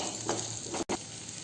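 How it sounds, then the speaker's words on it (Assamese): Kuchia eel meat frying over a low flame hisses softly and steadily in the pan, with a couple of faint scraping stirs and a brief cut near the end. "মাংসখিনি ভাজি থাকোঁতেই ল' ফ্লেমত 10 মিনিটমান ভাজি ল'ব।"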